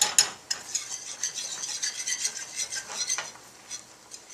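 A flour roux being stirred in a pan, with a utensil scraping the sides in steady, close, repeated scrapes and soft taps with no one talking.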